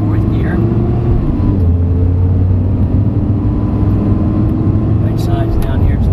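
Ferrari engine pulling hard on a racetrack during an exotic car driving experience, a loud steady close-up drone with rising gear tone, running continuously under in-car voices.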